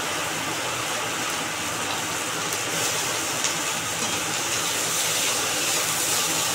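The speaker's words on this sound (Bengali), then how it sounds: "কি মুষলধারে বৃষ্টি হচ্ছে রে বাবা রে, এ কি বৃষ্টি" Heavy torrential rain pours down steadily in a broad, dense hiss that stays loud and unbroken throughout, heard from inside a kitchen while onions and chillies cook.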